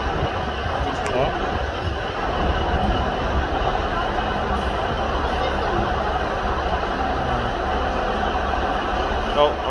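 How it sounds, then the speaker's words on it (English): A train at Wrexham General station gives a steady, rumbling roar with rolling wheel noise that stays close and loud throughout, and people talk over it. "this is the delayed train here"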